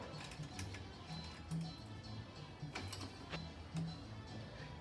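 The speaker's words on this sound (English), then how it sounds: "we thread the chain through the rear derailleur, through the cage, but above this plate, and around the lower pulley we go." A bicycle chain ticks and clicks as it is threaded through the rear derailleur cage and around its pulleys, giving a faint, irregular run of small metallic ratcheting sounds with no talking.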